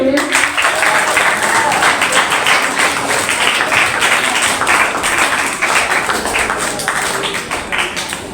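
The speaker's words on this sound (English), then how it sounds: "Okay, so now clap for him." Audience at a debate competition claps steadily and densely throughout, loud and sustained with some chatter underneath, tapering slightly near the end.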